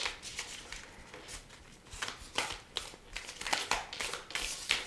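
Tarot cards are shuffled in quick, papery riffles and slides, a run of soft irregular flicks and rustles at close range with no voices.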